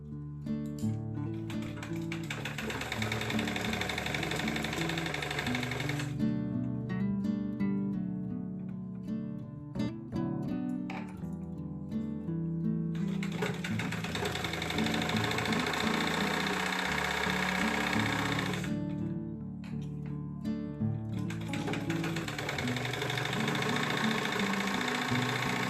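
A sewing machine stitching at a steady rapid rhythmic whir, running in long continuous spells with short pauses between them, close and moderately loud, with no talking.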